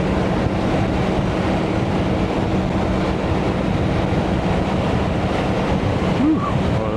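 Crosswind gusts buffet a motorcycle rider on a New Mexico ride, producing a loud, continuous broadband wind roar that rushes steadily through the whole stretch without a break.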